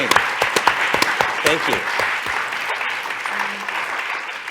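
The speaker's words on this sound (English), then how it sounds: "Does that excitement not deserve a round of applause?" Scattered, sharp applause at the Sir Arthur C. Clarke Innovation Awards, individual claps prominent at first and fading out while voices talk over the clapping.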